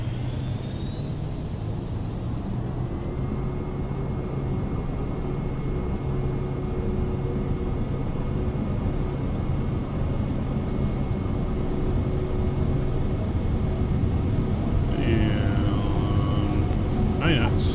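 A Cirrus Vision Jet in Microsoft Flight Simulator rolls for takeoff, a steady loud engine roar with a high whine rising early on, continuous throughout, with a few brief tones near the end.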